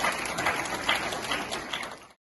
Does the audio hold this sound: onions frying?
no